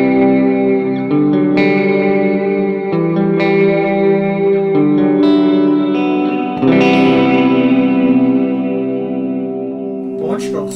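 Electric guitar on the middle pickup through a clean chorus preset on a Mooer GE200 multi-effects unit, with several strummed chords ringing out with a shimmering, reverberant sustain, loud and close, with no speech.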